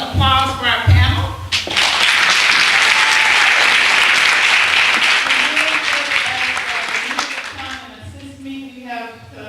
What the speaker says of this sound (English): I would like to give a rousing applause for our panel.